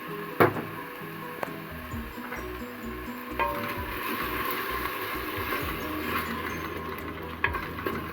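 Tomato paste and seasoning with salt sauté in a pot, giving a soft sizzle beneath repeated scraping and knocking of a utensil stirring against the pot.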